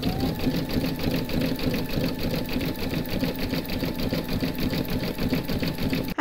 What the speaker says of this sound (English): You're now going to stitch round number 15, and that's going to do the satin stitch across the top here.